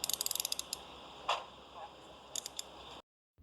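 Police handcuffs at an airport give quick close metallic ratcheting clicks, a rapid burst at the start, then a soft scrape and a few more clicks before cutting off.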